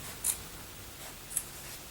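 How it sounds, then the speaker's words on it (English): Short scissors snipping through fabric along the edge of a band while hemming, two faint crisp cuts roughly a second apart, close up in a quiet room. "I like to use shorter scissors when I'm cutting."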